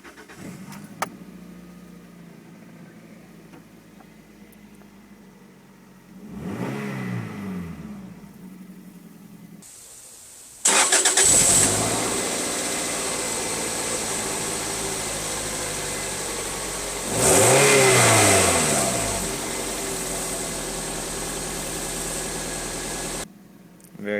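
A Toyota MR2 Spyder with a manual transmission cranks, fires up and settles into a steady idle, then its engine is revved twice in loud sustained bursts before easing back, heard close up with no talk.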